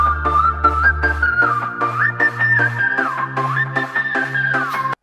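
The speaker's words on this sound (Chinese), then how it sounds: "妈妈，你会吹口哨吗？" Whistling from a Peppa Pig cartoon, a clear wavering tune with short melodic phrases over a steady low musical accompaniment, loud and continuous throughout.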